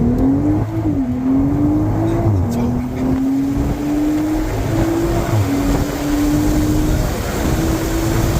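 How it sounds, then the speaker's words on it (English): A 2024 BMW Z4 M40i sends a loud, steady exhaust drone that climbs gently through the revs, with a few brief dips where the pitch shifts before it rises again. "No, this is all real exhaust."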